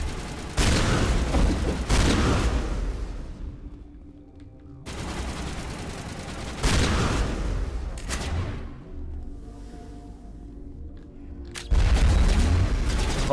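Grenade explosions in Mass Effect 1 Legendary Edition, several loud booming blasts at intervals, each trailing off into rumbling debris and quieter battle noise between.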